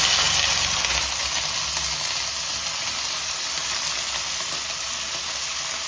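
Green peas frying with ginger in a pan for matar pulao, a steady hissing sizzle that stays loud and even throughout, fading only slightly toward the end.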